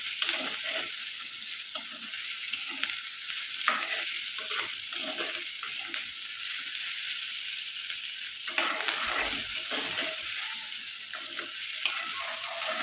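Green chillies sautéing in a pan for a Kerala theeyal, a steady close sizzle broken by repeated scraping stirs, with no voices.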